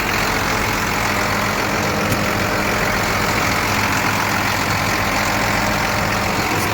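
A John Deere 7810 tractor engine idles with a steady, low diesel rumble and broad hiss, continuous and unchanging throughout at moderate level.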